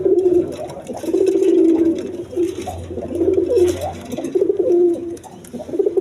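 Pigeons of a fancy coloured breed at a seller's place give steady, loud, close coos repeating in a throaty rhythm, with other birds faintly mixed in.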